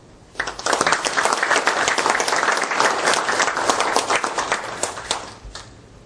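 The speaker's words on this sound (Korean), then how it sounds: "먼저 생방송 토론에 나와주신 민주당 김한길 대표께 큰 박수 부탁드립니다." A studio audience at a live televised political debate breaks into loud, sustained applause, many hands clapping densely for about five seconds before tapering off.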